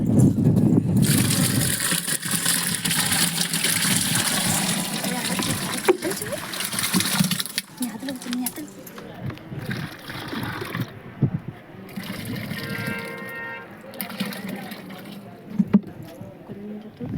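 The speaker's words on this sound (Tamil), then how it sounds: "இப்போ வந்து எல்லாத்தையும் நம்ம கலந்தாச்சு." Dissolved ingredients being stirred and poured into panchagavya liquid, with continuous splashing and sloshing water up close, later easing into trickling, while people talk.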